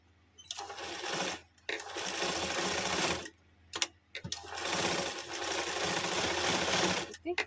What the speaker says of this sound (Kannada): ಇದು ಸ್ಟಿಚ್ ಹಾಕ್ಕೊಳ್ಳೋಣ.